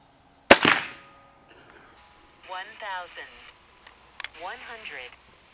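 An airgun fires an FX Hybrid slug with a single sharp crack at the start, followed by a brief ring-off. Afterward a person talks, and there is a small click.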